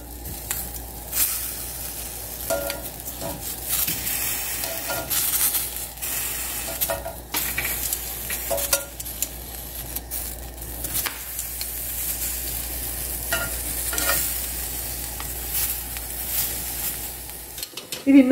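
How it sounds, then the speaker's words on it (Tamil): Mushrooms and vegetables sizzle steadily on a barbecue grill, a continuous close hiss with occasional scrapes and clinks as pieces are turned over. "இது வந்து அப்பப்ப திருப்பி திருப்பி வச்சு குக்க பண்ணிட்டு இருக்கு"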